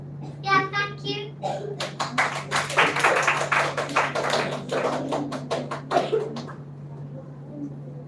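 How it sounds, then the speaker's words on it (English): Scattered hand claps from a school audience at a children's literature festival, a run of sharp taps lasting a few seconds, with children's voices and shuffling around them before the room falls quiet. "Can we have one more round of applause"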